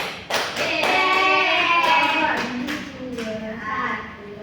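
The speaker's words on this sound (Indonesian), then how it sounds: "kita berikan tepuk tangan untuk Aulia Putri." A classroom gives a short burst of applause for a student, scattered clapping heard with voices talking over it.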